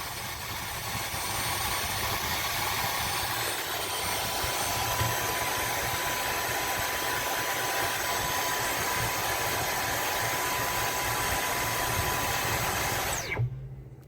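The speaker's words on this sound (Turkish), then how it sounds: "Hala kendi kendine çalışıyor. Tetiğe tekrar basınca duruyor arkadaşlar." A Dyson V15 cordless vacuum motor runs by itself in a steady, unbroken whine for about thirteen seconds and then cuts off abruptly near the end, with no talk over it.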